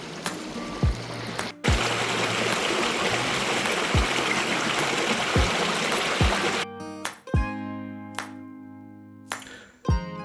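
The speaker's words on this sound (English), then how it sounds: "Little Hightower Creek with plenty of running water" Little Hightower Creek rushes steadily with a broad watery wash, then cuts off into quieter trickling, broken by a few sharp clicks and knocks.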